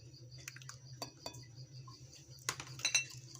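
A spoon clinks against a bowl while cornflour, milk and oil are stirred together, with scattered light taps and scrapes at close range and no talk.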